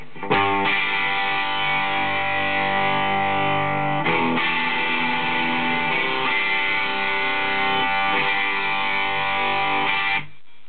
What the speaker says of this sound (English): another very versatile distortion pedal